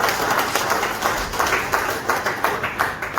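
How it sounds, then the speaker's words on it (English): Applause for the Vice-Chancellor at a committee inauguration meeting thins into scattered, distinct claps, individual hands striking in a loose, uneven rhythm that tapers toward the end. "Another round of applause for the Vice-Chancellor,"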